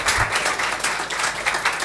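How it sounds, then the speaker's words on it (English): Steady applause from a crowd, a dense wash of many hands clapping at once, loud and sustained throughout with no voices on top. "Big round of applause for Aaron, everyone."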